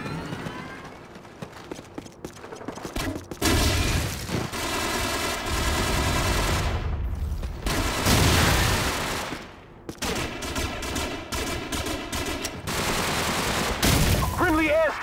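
Rapid bursts of suppressed AK-47 fire from Call of Duty 4 on the Wii come in dense, sustained volleys, loud and close, with brief gaps between strings of shots and game effects underneath.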